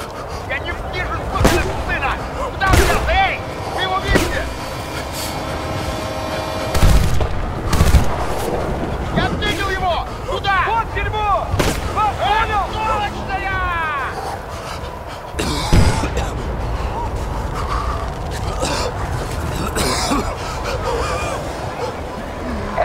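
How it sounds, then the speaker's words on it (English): Heavy gunfire and shelling in the Battlefield: Bad Company 2 mission Snowblind: loud, repeated booming blasts and rattling shots crowd a dense battle din, with radio chatter and shouted voices throughout. "Вступили в огневой контакт с противником в квадрате под шквальным обстрелом!"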